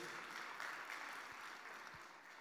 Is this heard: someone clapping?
yes